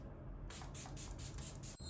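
A spray bottle mists in several quick bursts, soft hissing pulses in a quiet room.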